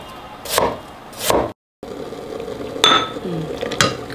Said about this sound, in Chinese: 切四瓣。